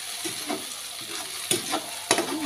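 Filipino shrimp paste (alamang) fries in a pan under steady sizzling, with a spoon stirring it in slow scraping strokes and a few sharper clanks.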